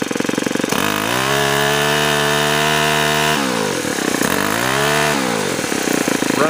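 Close, loud buzz of a Ryobi S430 gas string trimmer engine idling, a steady droning two-stroke note with a couple of brief shifts in pitch partway through.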